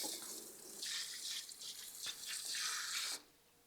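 Coolant water draining off a surface grinder table in a machine shop, a splashing, trickling flow that swells and wavers for about three seconds, then stops abruptly, leaving a faint quiet room.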